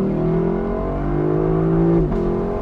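A 2023 Lexus LC500 convertible's 5-liter V8 engine drones loudly and steadily, its pitch holding high before briefly dipping as the revs drop.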